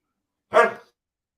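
A dog gives one short, close bark against silence.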